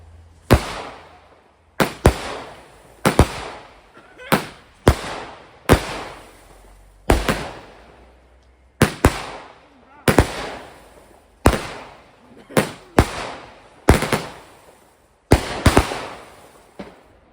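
Home fireworks display set off for a daughter and neighbours, a series of about a dozen sharp, loud bursts at irregular intervals, each booming explosion followed by a crackling decay, with faint voices in the background.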